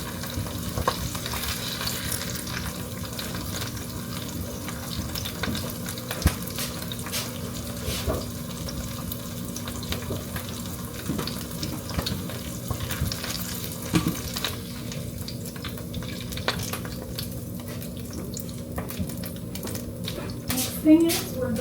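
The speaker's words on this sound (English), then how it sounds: "we're going to saute our rice with seasonings in the pan" Rice sautéing with seasonings in a pan, a continuous low sizzle with frequent spatula scrapes and knocks throughout, close by, with faint background noise and no clear speech.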